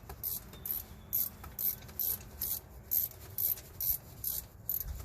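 A hand ratchet works a belt tensioner bolt on a 2013 Chevy Suburban 1500 with a 5.3 engine, making about a dozen rhythmic clicking strokes close up at a steady pace.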